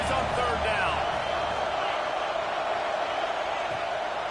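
Loud, steady roar of a football stadium crowd making noise on a third down, a broad continuous wash with a faint play-by-play voice underneath.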